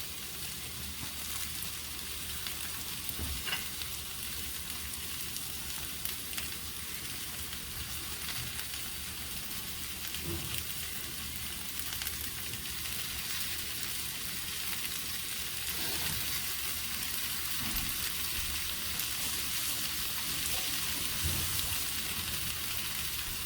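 Okra frying in a pan with tomato just added, a steady close sizzle hissing evenly throughout with a few faint clicks and stirring knocks underneath, no voices.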